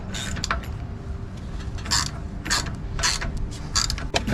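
Wrench ratcheting on the carburetor bolts of a Briggs & Stratton riding mower engine, torque screws loosened at the front; several short metallic clicking bursts repeat at a steady rhythm over a low background rumble.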